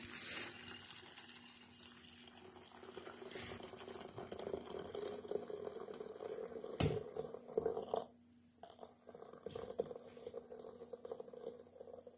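Water pours into a teapot onto loose herbal tea with mint, thyme, barberry and rosemary, a faint soft gushing and trickling fill that rises, then cuts off abruptly near the end, with no talk.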